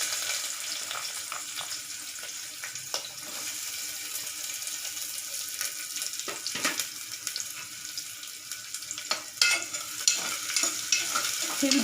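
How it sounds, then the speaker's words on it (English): Onions frying in heated oil while oats khichdi is being made, a steady broadband sizzle with intermittent stirring scrapes and clinks, close and continuous throughout. "we fry the onions"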